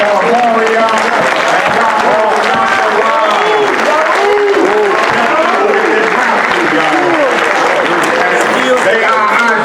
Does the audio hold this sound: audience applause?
yes